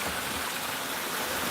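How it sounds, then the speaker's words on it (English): Spring water welling up from under riverside rocks in Watermouth, Manchester, Jamaica, a steady close rushing and gurgling wash that holds constant throughout with no pauses. "it is springing up from under the rocks there"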